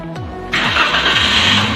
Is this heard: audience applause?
no